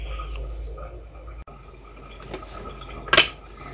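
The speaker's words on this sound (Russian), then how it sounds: "Это капает у меня уже вторая баночка." A drop of homemade whisky falls into a glass jar, one crisp close drip near the end of an otherwise quiet stretch with faint background noise.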